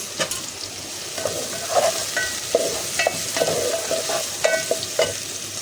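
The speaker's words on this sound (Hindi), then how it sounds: "अब हम इसमें प्याज डालेंगे, हाफ टेबल स्पून जीरा और 5 से 6 अदद साबुत मिर्चें." Onions, cumin and five or six whole chillies fry in a pan for a homemade egg dish, giving a steady sizzle broken by repeated clinks and scrapes of stirring, close and moderately loud, with no voices.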